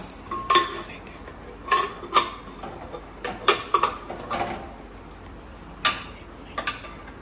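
Metallic clanks and clinks of a pressure cooker lid being worked open after cooking daab chingri, prawns in green coconut, on a home stove. Sharp scattered knocks and rattles come close by, with brief pauses between them.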